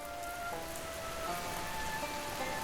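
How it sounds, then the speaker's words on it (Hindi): Heavy rain pours steadily on a surface at close range, a dense, continuous wash of drops with no talking. "शाम के वक्त कचनपुर में तेज बारिश हो रही थी।"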